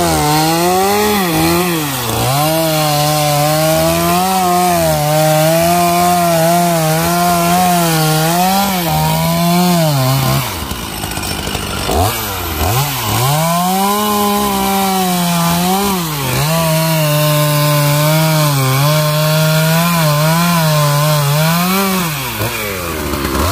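A chainsaw cuts down coconut trees beside a pig pen, loud and close, its pitch rising and falling as the cut bites, with a short pause midway before sawing resumes.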